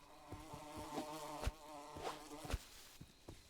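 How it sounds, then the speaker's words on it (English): A jar of bees buzzes in a video game, a thin insect drone under soft, uneven clicks and knocks, fairly quiet with a few sharper taps. "I've got a jar of bees"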